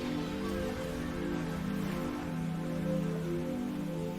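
Dense, steady rain hisses continuously in a stormy downpour with lightning and thunder, drumming on a car by the roadside with a low background hum underneath.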